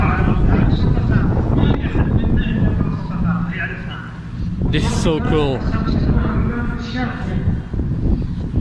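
Strong wind in a desert sandstorm roars and buffets steadily close at hand, with a person talking excitedly over the gusts.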